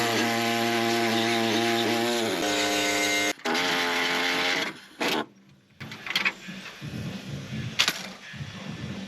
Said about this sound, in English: Save the washer, and it's cut the shaft of the bolt off.